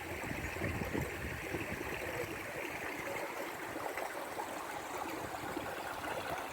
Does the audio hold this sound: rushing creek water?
yes